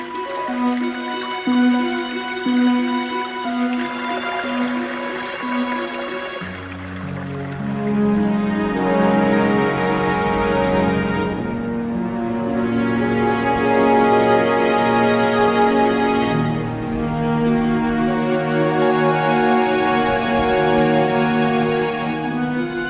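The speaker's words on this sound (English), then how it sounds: "The trickle and murmur of water is everywhere." Spring meltwater trickles and drips in the Arlberg mountains, a steady layered wash of water with scattered drip accents throughout, sometimes with tonal elements layered over it.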